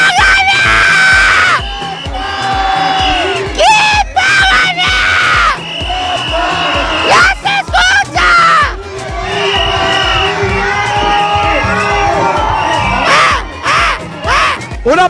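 A cheer squad at a school band ceremony loudly shouts its chant in unison, with high, strained voices and screams rising and falling in rhythmic bursts, close and dense throughout.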